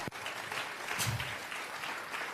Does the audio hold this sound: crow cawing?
no